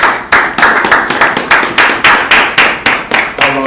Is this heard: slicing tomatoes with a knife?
no